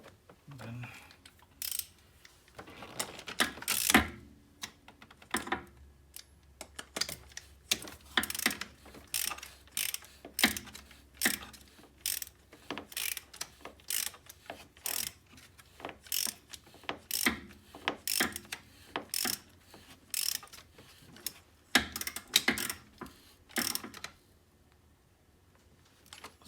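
A ratchet wrench tightening cover bolts on a 2006 Volkswagen GTI MK5, rapid clicking bursts repeating steadily for many strokes, close and crisp, with brief pauses between runs.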